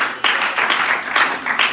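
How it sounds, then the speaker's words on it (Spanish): Church congregation clapping together in rhythmic, steady beats, a loud, close crowd of hands with no talking over it. "Denle palmas al único Dios verdadero"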